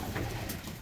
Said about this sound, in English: He's a beautiful pigeon.